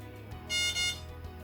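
A Samsung UV sterilizer with wireless charging gives two quick, close electronic beeps back to back over a steady low hum.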